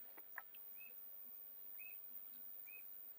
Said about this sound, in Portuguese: O som da natureza, os pássaros cantando